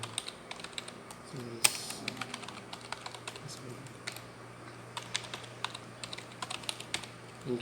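Quick, steady keystrokes on a computer keyboard while entering router configuration commands, close and fairly quiet, clattering continuously for several seconds.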